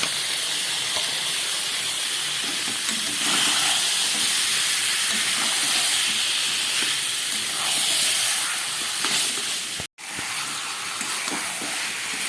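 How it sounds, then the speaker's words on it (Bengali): Marinated chicken goes into a pan of fried potatoes and onions and sizzles with a steady, close hiss. The hiss runs throughout, broken by a brief gap near the end. "এবার আমি এই মেখে রাখা মাংসটা, চিকেনটা আমি দিয়ে দিচ্ছি।"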